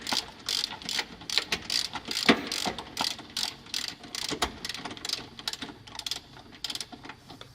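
A ratchet wrench tightens a bolt in quick bursts of rapid clicking, close and crisp, with short pauses between strokes.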